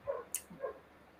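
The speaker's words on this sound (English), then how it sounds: "I'm so sorry if you guys can hear my dog" A pet dog close to the microphone gives a couple of short whimpering yips with a brief sharp noise between them, alone in a quiet indoor room.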